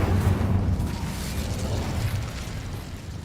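A fiery Incendio spell bursts and roars in Hogwarts Legacy, a loud, sustained rumbling whoosh of flame with low booming energy that fades slightly over about three seconds, with no voices.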